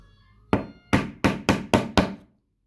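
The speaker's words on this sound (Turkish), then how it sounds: "Bu kurulumu yapabilmemiz için bir çekiç yardımına ihtiyacımız olacak." Six sharp hammer taps fitting hard plastic parts of a savings box together, evenly spaced after a short pause, loud and close with quick decays, no voices.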